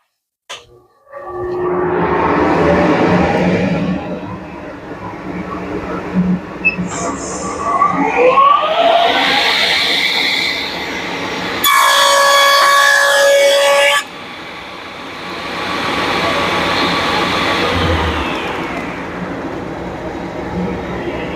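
A table saw rips a board to width with a push block: a loud close roar of motor and blade cutting wood, rising and shifting in pitch through the pass, with a brief harsher whine before the blade runs on alone.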